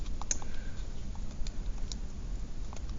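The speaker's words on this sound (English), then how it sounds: "Sorry, I keep typing the wrong thing." Someone types on a computer keyboard, a fast irregular patter of light key clicks close by, with no talking.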